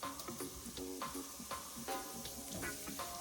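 Thyme and rosemary sizzling in butter over low heat, a close steady crackle with rhythmic scraping and tapping of a utensil against the pan.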